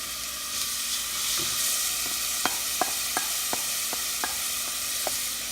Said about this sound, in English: And then we will put our onions.